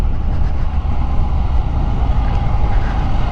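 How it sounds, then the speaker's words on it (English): Car exhaust rumbling through an open road tunnel, a steady loud low drone that echoes and fills the space without a break. "No better place than to listen to your exhaust than no, the tunnel's open"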